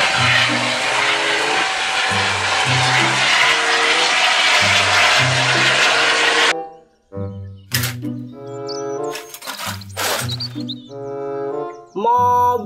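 Toy helicopter: a whirring, noisy rotor-like drone looping under a simple repeating electronic tune for several seconds, then cutting off into a series of bright beeping toy melody notes.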